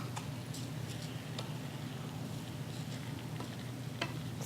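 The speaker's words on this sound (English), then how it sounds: "Just give it a quick stir to make sure that it all gets mixed." Brown rice being stirred into a primavera rice casserole, a steady soft scraping and mixing with faint sizzling beneath and a few light clicks of the spoon against the pan.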